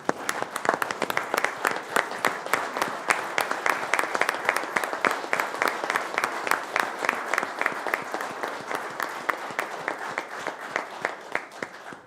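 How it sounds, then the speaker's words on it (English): A city council chamber breaks into prolonged applause and a standing ovation for police officers, a long run of crisp, rhythmic claps from a modest crowd that carries on steadily without letup. "I think these officers deserve a round of applause and a standing ovation."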